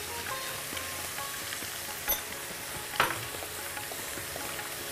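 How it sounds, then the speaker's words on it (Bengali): Onions frying in a pan for a fish kalia curry, a steady soft sizzle throughout with a couple of brief clinks or stirs, close and fairly quiet, no talking. "পেঁয়াজটা একদম লালচে করে ভাজা হবে।"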